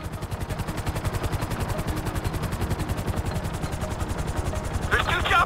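Two helicopters approaching in the video game GTA 5 during a heist, a loud rapid rotor chop throughout with gunfire-like bursts mixed in.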